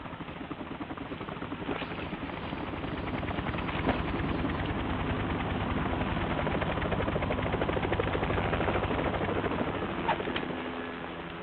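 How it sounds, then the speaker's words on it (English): A helicopter in the video game Metal Gear Solid 2 drones continuously throughout, a loud, steady rotor chop with a faint swell in the middle and a slight fade at the end, and no voices over it. "You will be on the helicopter out of here now."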